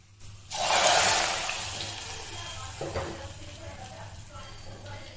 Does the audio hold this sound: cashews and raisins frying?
yes